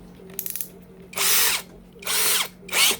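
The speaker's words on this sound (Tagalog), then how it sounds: "Nakaset nga sa hammer drill." Cheap TZ Z90 rechargeable brushless cordless drill set to hammer drill mode, a few quick clicks, then three loud bursts of whirring with hammering rattle, each about half a second long, close up with pauses between.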